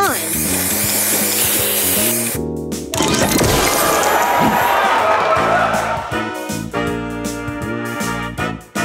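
Spray booster effect from the mobile puzzle game Match Masters: a loud, broad hissing burst that washes over bright game music for a few seconds, mixed with chimes and brief voice announcements.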